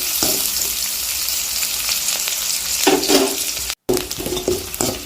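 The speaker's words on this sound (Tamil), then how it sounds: "வெங்காயம் நல்லா வதங்கிருச்சு" Chopped onions sizzle and fry in an oiled pan for beetroot rice, with a steady crackling hiss and occasional scraping stirs of a spatula close by.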